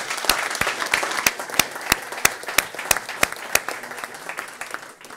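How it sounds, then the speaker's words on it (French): Audience applause at a gathering of local shopkeepers in the Aisne, a moderate crowd clapping steadily with a few sharp, distinct claps standing out near the microphone. "Ben, je crois qu'on peut l'applaudir"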